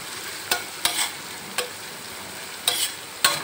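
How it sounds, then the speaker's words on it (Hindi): Onions frying in a pan for tawa keema, a soft background sizzle broken by five sharp stirring scrapes and clatters spaced irregularly, close by and without speech. "तो जब तक यहाँ पे हमारी प्याज फ्राई हो रही है"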